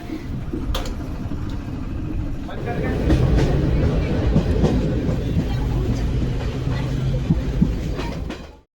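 A train rumbles along the tracks with a steady low roar and rattling clatter, muffled voices murmuring inside the carriage.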